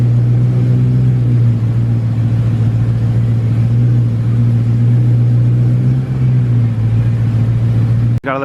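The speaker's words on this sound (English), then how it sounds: "Gotta let the car warm up so we can check where the oil is at" BMW E92 M3 engine idling while warming up after an oil change, a steady, loud low rumble with a constant drone that holds evenly throughout before a sudden stop at the end.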